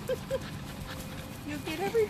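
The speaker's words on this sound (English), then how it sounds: "Hey, what are you barking at?" A dog at a dog park gives short yips and whimpering barks in quick bursts, fairly close, while a person talks over and between them.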